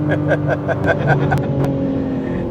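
A 2024 BMW M4 Competition coupe with a six-cylinder engine and factory exhaust, loud close engine tone with rhythmic pulsing revs that settle into a steady drone.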